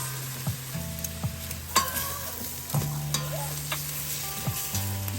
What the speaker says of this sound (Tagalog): Now, let's put our mushroom.